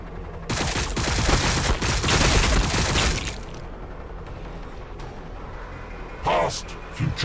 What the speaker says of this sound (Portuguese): Cara, essa metralhadora é muito boa